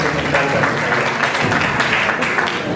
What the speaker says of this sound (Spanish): Nos despedimos con fuertes aplausos